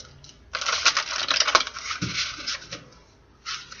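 A deck of oracle cards is shuffled in quick, crisp riffling bursts of papery flutter, close and fairly loud, with a short pause before a brief final shuffle.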